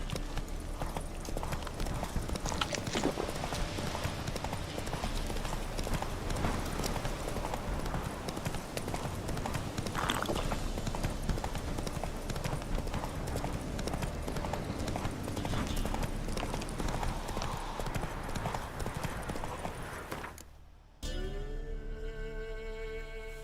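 The horse Roach gallops in a video game, a quick, steady clip-clop of hooves running continuously and fairly close, with a few brief spoken words over it before the hoofbeats cut off near the end.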